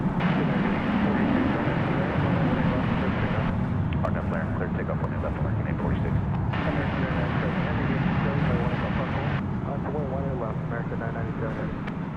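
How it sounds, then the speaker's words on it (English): American Airlines Flight 2346 takes off from DFW at night bound for Chicago O'Hare, a loud, sustained jet engine roar that stays heavy throughout, with a voice talking over it. "That was American Flight 2346 off to Chicago O'Hare Airport"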